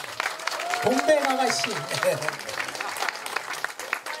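An audience claps through a trot medley concert at an old traditional house, the applause steady and moderate beneath a voice speaking and singing over it.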